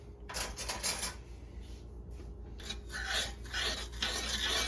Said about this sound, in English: Right now we're stirring it.